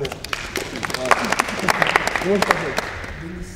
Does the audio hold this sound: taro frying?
no